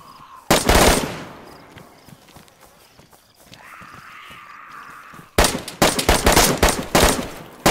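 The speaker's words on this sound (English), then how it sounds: "Who's shooting all that shit?" Loud bursts of automatic gunfire in DayZ, one short volley early on and a longer, ragged string of shots toward the end, separated by quieter ambient sound.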